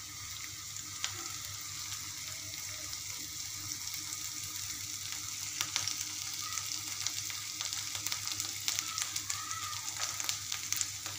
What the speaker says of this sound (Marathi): टोमॅटो छान तर आपले मसाले असे मस्त 2 मिनिटं मी शिजू देणार आहे.